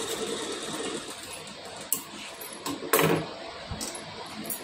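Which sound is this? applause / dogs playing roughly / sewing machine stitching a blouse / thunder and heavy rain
sewing machine stitching a blouse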